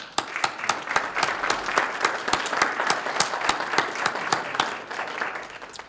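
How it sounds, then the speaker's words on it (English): An audience at the 2020 Westland Police Awards ceremony breaks into sustained applause, a dense, steady patter of many hands clapping at moderate volume that continues throughout before starting to fade. "the Westland Police Department applauds all of you"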